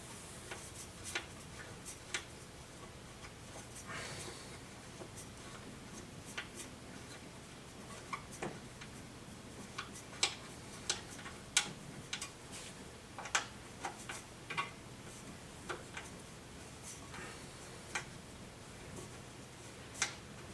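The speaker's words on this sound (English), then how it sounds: "So let's use the Allen wrench now." Small metal Allen wrench turning a screw while a TV stand is assembled, giving irregular light ticks and clicks, close and fairly faint, scattered through a quiet room without talk.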